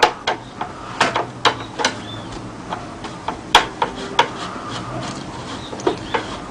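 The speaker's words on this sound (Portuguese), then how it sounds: "Então eu vou desmontar ele usando a chave comprida, que eu falei para vocês, a 3/16 por 12." A long 3/16 by 12 screwdriver works a screw out of a radio's battery compartment while a microsystem is taken apart, giving sharp, irregular clicks and scrapes close by with no talk.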